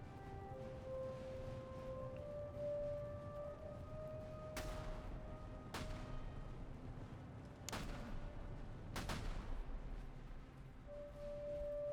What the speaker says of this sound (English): Please run by so the artillery can take its shots.